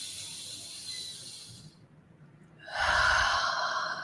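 Deep breathing during a guided mindfulness exercise: a soft, steady breath sound, then a quiet pause, followed by a louder, closer breath.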